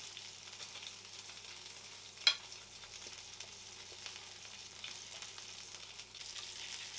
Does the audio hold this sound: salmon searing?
yes